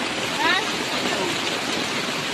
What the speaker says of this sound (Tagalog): Ay, ang ulan kaya yan.